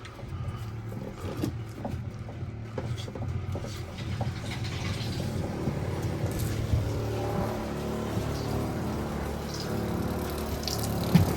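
Water gushes and rushes steadily into a washing machine on a narrowboat over a low mechanical hum, loud and continuous, with no voices.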